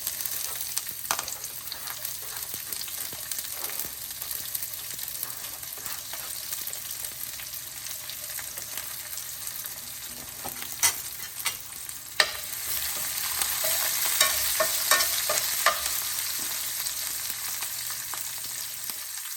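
Onions fry for upma in a pan and get stirred, giving a steady close sizzle with occasional sharp scrapes and clicks of the spoon. The sizzle grows louder toward the end.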